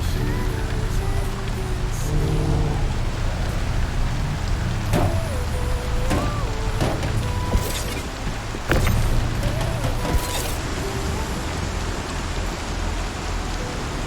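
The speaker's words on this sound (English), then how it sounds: "It started raining." Steady rain in the video game Star Citizen hisses continuously over a low background rumble, with occasional soft tones and clicks scattered through it.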